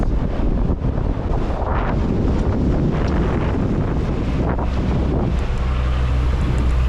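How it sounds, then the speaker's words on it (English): Strong wind buffets the microphone in a steady roar, surging in gusts over a faint backdrop of open water while sailing along the Faroe Islands coast. "Oops, windy gust."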